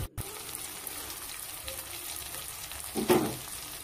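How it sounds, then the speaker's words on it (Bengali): Spices and tomato fry in a pan for a home-style Bengali chicken curry, giving a soft continuous sizzle with a brief louder stir or scrape near the end, close and without talk. "আবার 2 মিনিটের জন্য মশলাটাকে ভেজে নিব।"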